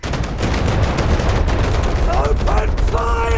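Dense automatic gunfire and explosive bursts from Call of Duty: Modern Warfare Remastered, a loud continuous fusillade with rapid shots throughout, with a shout over the battle near the end.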